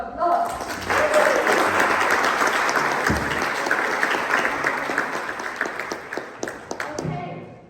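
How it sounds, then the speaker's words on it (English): An audience at a nomad conference applauds after a meditation talk, a loud burst of clapping that gradually thins into scattered individual claps near the end, with a few voices mixed in. "now he deserves another round of applause"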